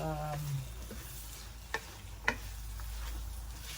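Lamb and rice fry in a pan with a steady, faint sizzle, broken by two soft clinks of a utensil against the pan.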